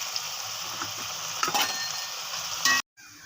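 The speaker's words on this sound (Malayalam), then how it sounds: "ഇഞ്ചി വറുത്ത് കോരാനാണേ" Half a kilo of ginger frying in hot oil sizzles steadily with occasional stirring scrapes, fairly close, then cuts off abruptly near the end.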